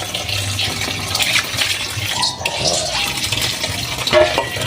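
Salted cabbage for kimchi is rinsed in water, with close sloshing, splashing and swishing and light clinks of a bowl or pot, running steadily with no talking.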